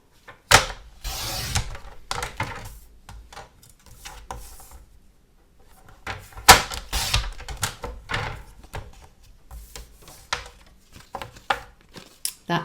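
Paper trimmed on a paper trimmer while crafting a card album: a run of sharp slicing and crisp crinkling strokes, with a pause mid-way, then more close, dry cutting and handling noises.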